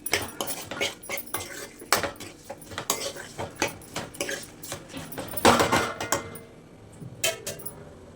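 A spoon scrapes and clinks against a pan while chilli powder is stirred into chicken curry, a string of sharp metallic taps and scrapes in an uneven rhythm, close and fairly loud, with a short pause near the end.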